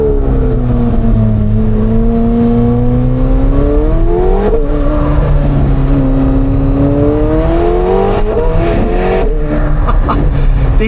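A McLaren 750S sports car accelerates hard with a loud, continuous engine roar that climbs in pitch through several gears, heard from inside the cabin with no talking.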